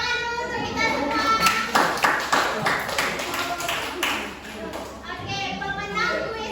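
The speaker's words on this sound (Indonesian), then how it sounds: "Tepuk tangan dulu untuk kita semua." Schoolchildren in a classroom clap together after winning a quiz, an uneven burst of hand claps that builds and fades, with children's voices and chatter underneath.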